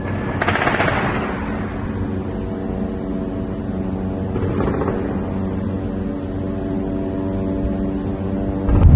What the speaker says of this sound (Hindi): अस्पताल के आसपास खतरनाक फायरिंग चल रही है।